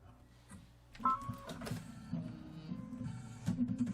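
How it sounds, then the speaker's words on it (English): An embroidery machine stitches out its first few stitches in white thread, a quiet, busy mechanical whirr with a fast rhythmic needle patter, heard close and alone. "we're going to stitch out the first few stitches with white thread"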